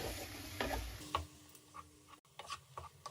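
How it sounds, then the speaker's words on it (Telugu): A spoon stirs a mung dal mixture with coconut in a pan, giving soft intermittent scraping strokes against the pan with a faint sizzle, quiet and close. "ఈ పెసరపప్పుని వేసేసుకోండి ఇప్పుడు ఒకసారి అంతా బాగా కలుపుకోండి"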